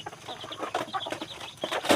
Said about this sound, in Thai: ยายได้ยินเสียงไก่ป่าจะมา